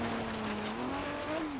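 A rally car in DiRT Rally 2.0 drops into second gear, and the engine note holds steady and then climbs in pitch as the revs rise. The engine is loud and close, with a brief blip.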